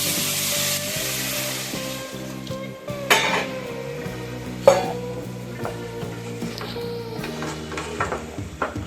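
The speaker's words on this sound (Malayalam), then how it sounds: "രണ്ട് മൂന്ന് മിനിറ്റ് നേരം ഒന്ന് വറുത്തെടുക്കുക" Tuna fish biryani ingredients frying in a pan, a steady close sizzle with occasional sharp clanks and scrapes of stirring against the pan, and no talk.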